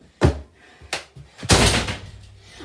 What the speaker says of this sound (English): Then I push the door open.